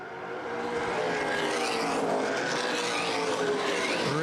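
Late model race cars roar around a speedway at the Winchester 400, engines droning loudly and continuously with rising and falling pitch as several cars race side by side past the listener.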